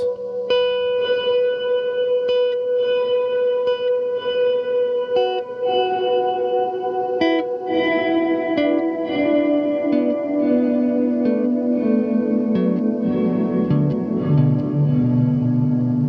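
Electric guitar notes through a Death By Audio Rooms pedal with depth at max, drenched in delay and reverb, each phrase trailing into layered echoes that build into a dense, sustained wash of sound, no talking.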